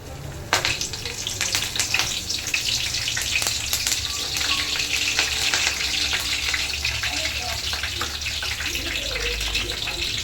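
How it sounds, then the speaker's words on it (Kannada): Mustard seeds, cumin and curry leaves sizzle in hot oil as a tempering for spicy puffed-rice snack, a steady close crackle and hiss with sharp seed pops and clicks throughout. "ಸಾಸ್ವಿ ಜೀರಿಗೆ ಚಟಪಟ ಅಂದಿಂದೆ ಕರಿಬೇವು ಹಾಕಬೇಕು"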